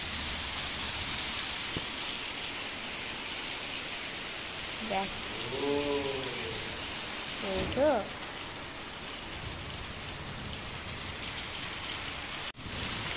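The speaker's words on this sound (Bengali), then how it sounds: "বৃষ্টি পড়ছে," Steady rain falls outside, a constant broadband hiss of drops on surfaces running throughout, with a child's brief vocalizations and an adult voice heard partway through.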